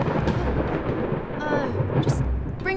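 A thunderstorm with steady heavy rain and rolling thunder, fairly loud throughout, while faint voices and a few brief squeaky sounds come through near the end.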